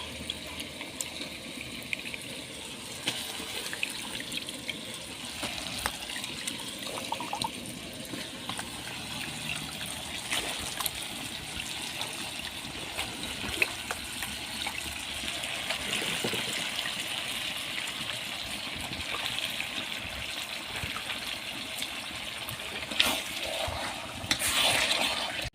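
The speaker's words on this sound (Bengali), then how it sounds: "এইদিকে মুরগি সিদ্ধ হওয়ার জন্য পরিমাণ মতো পানি দিয়ে দিলাম।" Water is poured into a cooking pot to boil chicken for a spiced chicken bhuna, making a steady, close gushing rush that runs on without a break.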